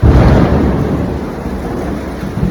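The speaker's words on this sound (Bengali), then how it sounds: "বাজ পড়ছে ধারে বৃষ্টি হচ্ছে" Deep rumbling thunder rolls over steady heavy rain, loud and close, with a continuous low roar throughout.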